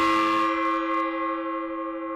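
A resonant gong stroke during an Among Us game session blooms with a bright metallic attack and then hums on in a long, steady, slowly fading ring.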